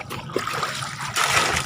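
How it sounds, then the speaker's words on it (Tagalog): Water trickling and splashing into a plastic tub at a riverside fishing spot, a brief close splash that lasts under two seconds. "Lagyan lang natin ng tubig mga bro yung ating banyera na."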